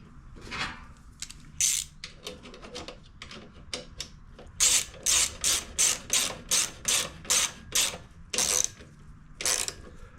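Ratchet wrench tightening a bolt on a Honda HRR216 push mower, heard as bursts of close, rapid clicking that settle into a steady run of about ten evenly spaced ratchet strokes, with no talking.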